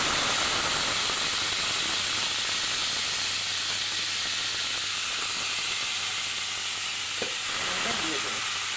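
A potato and onion mixture coated with spices hisses and sizzles as it hits hot oil in a kadai, a steady close frying roar with faint stirring, alone.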